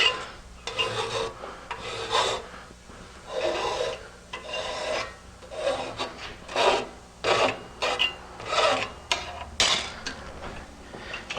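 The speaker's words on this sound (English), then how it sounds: "Deburr it." A hand file deburrs a steel bicycle frame tube at a joint, with repeated rasping strokes in an uneven rhythm of about a dozen scrapes, close and loud, with no speech.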